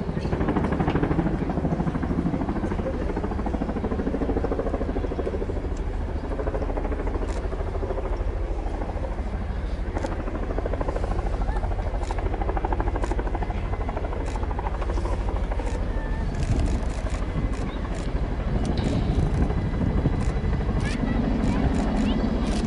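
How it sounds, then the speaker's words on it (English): A Boeing Chinook tandem-rotor helicopter lands at an air show, the Royal International Air Tattoo, its rotors pounding in a loud, continuous, close thrum that stays steady the whole time. "you'll see how the tandem rotors of the Chinook are used to bring the aircraft to a complete stop"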